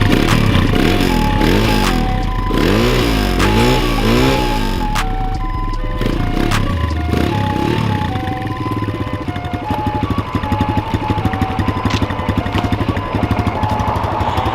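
A motorcycle engine idles while warming up, a loud, close, steady rumble with even pulsing throughout and slight shifts in tone midway.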